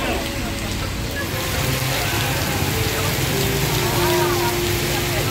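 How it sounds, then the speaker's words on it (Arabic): Steady rain falls at night in Ubud, Bali, a dense continuous patter at close range, with faint tonal hums in the background. "الشتا ما تتحبش الليل كامل"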